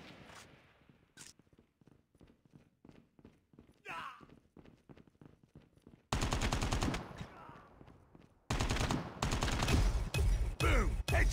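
Gunfire in Call of Duty Mobile multiplayer, loud bursts of rapid shots in two dense stretches, preceded by quieter scattered clicks and footstep-like sounds.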